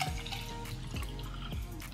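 Iced tea pours from a bottle into a glass, giving a soft, close liquid trickle with a few gentle glugging splashes. It is quiet and has no talking.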